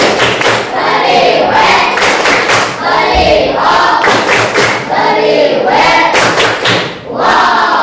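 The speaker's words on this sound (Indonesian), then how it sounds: "tepuk wow untuk kelompok 1. Tepuk wow." A classroom group performs the 'tepuk wow' clap chant, loud rhythmic claps and thumps mixed with voices chanting in unison, repeating in rounds throughout.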